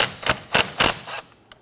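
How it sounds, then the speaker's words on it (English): A 10mm socket wrench loosens the nut on a car battery's ground terminal on a 2012–2019 Ford Taurus, making four quick ratcheting clicks in a row, close and crisp, then a faint final tick. "We want to go ahead and loosen this nut right here."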